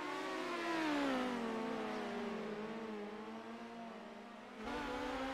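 Dirt midget race cars howl around a karting center dirt track, their engines rising and falling in pitch as they pass at a distance, with no voices.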